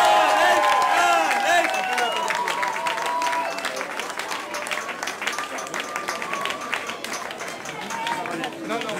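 Concert audience at a Paris venue applauds and cheers for a singer, dense sustained clapping with crowd noise, loud and close at first and easing slightly over time.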